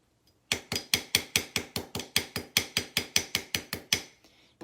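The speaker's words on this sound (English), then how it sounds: "So I textured both sides of my bracelet. Okay, with that ball peen head that I love so much." A ball peen hammer strikes a metal bracelet to texture it: about sixteen quick, evenly spaced, ringing metallic taps, close and alone.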